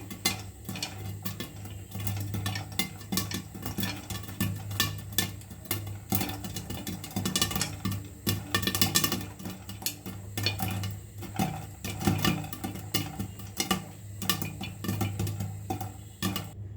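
Caramelized popcorn pops inside a covered pot on a stove whose heat has just been raised from low, giving a dense, irregular crackle of many small pops that runs steadily throughout, close but fairly quiet, with no talking.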